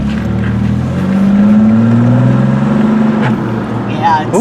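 Engine of a 1993 Chevrolet Blazer 4x4 revving from inside the cab, a loud sustained rise and fall in pitch that tapers off, with people talking near the end.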